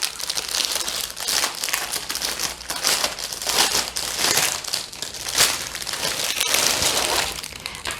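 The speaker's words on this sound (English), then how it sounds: "Hang on for crinkle." Gift packaging from a Secret Santa present crinkles and rustles continuously, loud and close, in dense crackling bursts that swell and fade as it is handled.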